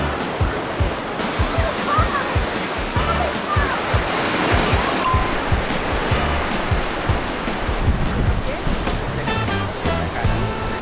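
Ocean waves and surf roll in continuously at Bronte Beach in Sydney, a steady broadband wash of breaking water close by, with voices faintly mixed in.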